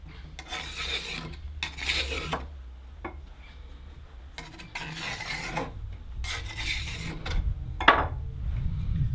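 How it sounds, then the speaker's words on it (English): A hand file rasps along the edge of a chainsaw chain to remove burrs, giving repeated close, scraping strokes in uneven bursts with short pauses between them. "grab your file and just run it along the edge to get rid of any burrs"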